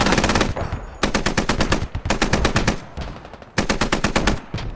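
Rapid automatic gunfire in the Squad military shooter, loud and close, fired in several sustained bursts separated by brief gaps, with no voices over it.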